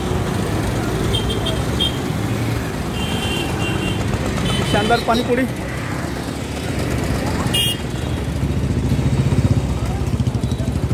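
Evening street traffic on a busy city road near a garden, with motorcycles and cars passing, engines droning and a horn tooting now and then, while someone talks over the steady roadway noise.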